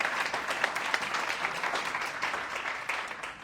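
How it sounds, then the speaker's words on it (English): Audience applause in a classroom seminar on water conservation and gardening for bees, a steady wash of many hands clapping for about three seconds before easing off slightly at the end. "Please give a round of applause"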